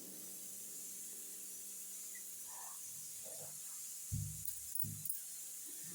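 Thinly sliced onions frying in hot oil with rice in a pan for vegetable rice give a faint, steady sizzling hiss, with a few soft clunks of stirring near the end and no talking.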